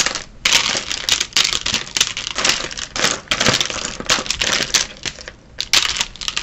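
Frixion marker-tip pens are dropped and shuffled into an organizer, making a quick run of hard plastic clicks and clatters, close and fairly loud, with short pauses between bursts.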